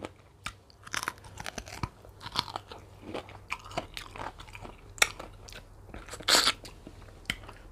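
Someone bites and chews a fresh, firm peach up close, producing a string of crisp crunches and wet chewing sounds at an irregular pace, with a louder crunchy burst near the end.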